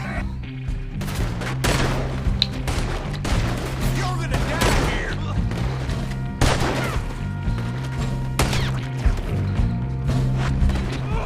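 Repeated gunshots in the video game Red Dead Redemption 2 crack out in bursts, with a loud shot near the middle, over background music and voices talking.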